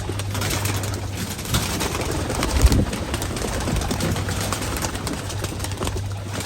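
Pigeons coo softly at a loft where fourteen new birds are being released, with low murmuring calls under a constant hum of outdoor background noise.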